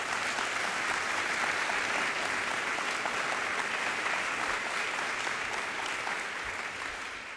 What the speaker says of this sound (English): Let's give a round of applause for Kathy Chow